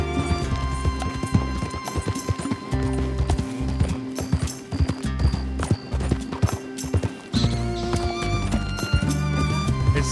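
Rhythmic clip-clop of a galloping horse in Red Dead Redemption 2 over bright, steady game music, with an occasional whinny.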